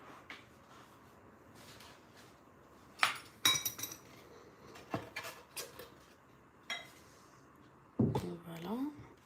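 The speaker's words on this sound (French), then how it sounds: "j'ai fini de couper mes pommes. Je vais les ajouter au mélange." Chopped apples tipped into a banana bread batter in a bowl, with a few light clinks and knocks of a utensil against the dish, some scraping, and a faint voice near the end.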